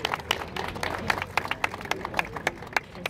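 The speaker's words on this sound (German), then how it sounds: "Applaus bitte." Audience clapping for racing driver Simone De Silvestro at a Formula E ePrix in Berlin: a modest, fairly distant patter of scattered hand claps, steady but thin, over about three seconds.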